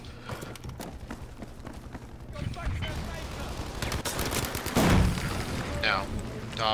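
Gunfire and explosions from the video game Battlefield V, with repeated shots and heavier booms building over several seconds, while a player talks over the battle.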